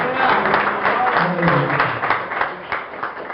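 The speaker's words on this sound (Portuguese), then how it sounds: "e as palmas louvam e glorificam o nome do Senhor Jesus Cristo" Church congregation clapping in praise during a Portuguese-language worship service, a loud steady wash of many hands with voices mixed in throughout.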